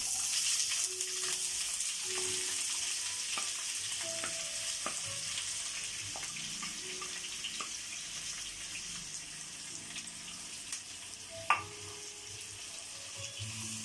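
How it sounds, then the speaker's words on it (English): Steady hiss of finely sliced onions frying in hot oil in a pan, with a few stirring scrapes and clinks and a sharp knock near the end; no voices. "we will just add our finely sliced onions to the oil in the pan."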